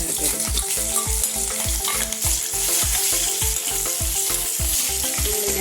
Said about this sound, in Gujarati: જો તેલ આપણું રાઈ જીરું આવી ગયું એટલે ડુંગળીનો વઘાર કરીશું.